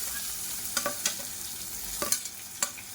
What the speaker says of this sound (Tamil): இப்போ இதில் பொடியாக கட் பண்ண பூண்டு சேர்த்துக்கலாம்.